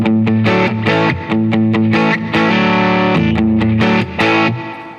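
A distorted electric guitar plays a chord-based rhythmic riff, loud and gritty, with sustained chords broken by short choppy strums.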